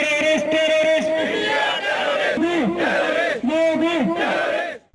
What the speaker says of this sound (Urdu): پرجوش انداز میں انڈیا دہشت گرد، مودی دہشت گرد اور کشمیر کی آزادی کے حق میں نعرے بازی کی